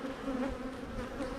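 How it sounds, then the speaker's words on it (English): Honey bees swarm and buzz around a beekeeper's hives, a steady close droning hum that holds alone without pause. "But I've got plenty of bees to sell"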